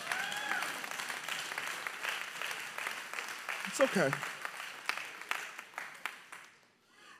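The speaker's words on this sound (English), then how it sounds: "That's a great place to clap." Audience applause fills a church revival service, a steady patter of many hands clapping at moderate distance, with a speaker's voice briefly heard over it before the clapping thins out and stops.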